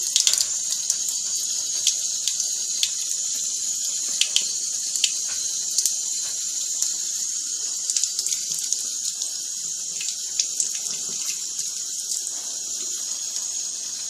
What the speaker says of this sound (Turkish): Ay ay çok su geliyor.